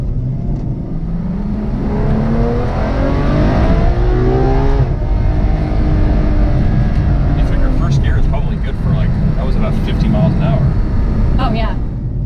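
A Ferrari F12 Berlinetta V12 revs hard toward its 8,500 rpm redline, loud and close from inside the car. The pitch climbs steadily and then drops as the engine keeps pulling, and people talk over it.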